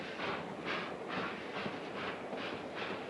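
A moving train in the 1952 film Sudden Fear, heard as a steady rumbling roll with a regular rhythmic clatter about twice a second, continuous and fairly close, with no talking.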